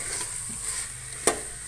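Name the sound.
chickpeas being sautéed in a cooker pan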